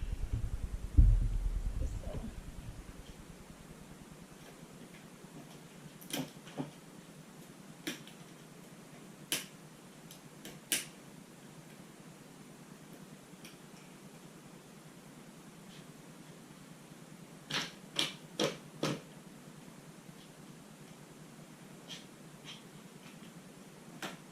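Upholstery fabric and staples being pulled off a piece of furniture, heard as scattered sharp snaps and clicks, some in quick clusters, against a quiet background hiss.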